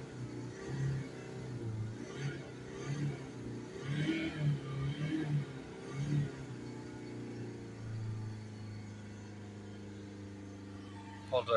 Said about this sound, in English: So give it some revs up and down.